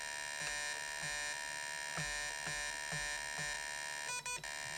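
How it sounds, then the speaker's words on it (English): A 1981 Mattel Starhawk handheld electronic game sounds its low-fuel warning, a steady electronic buzzing tone pulsing in an even beep pattern about twice a second over a constant hum. "That's the beeping, I believe, is telling me I need to land."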